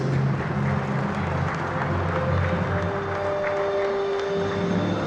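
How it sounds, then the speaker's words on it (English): An audience applauds steadily at a judo award ceremony during the Abu Dhabi Grand Slam 2021 finals: dense, continuous clapping from a large arena crowd, even in loudness throughout. "Your applause, please."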